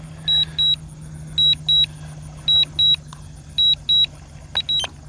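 A drone remote controller beeps as the aircraft hits its maximum flight altitude, paired high tones repeating in a steady double-beep rhythm over a low electronic hum, ending in a quicker burst.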